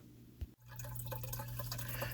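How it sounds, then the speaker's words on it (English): Water running in a DIY greenhouse waterfall, fed from a 30-gallon fish tank by a 200 GPH pump, with a mini fogger nearby; a steady close trickle and splash with a constant low pump hum, after a brief drip at the start. "The water flows from a 30-gallon fish tank using a 200 GPH water pump."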